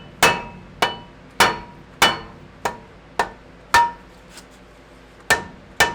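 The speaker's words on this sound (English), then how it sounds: "with the rubber mallet, it's not so bad. So you're just going to want to give everything a couple love taps." Sharp, evenly spaced taps of a rubber mallet striking brake parts on a Ram 1500 EcoDiesel pickup, about nine close, loud knocks with a short metallic ring after each.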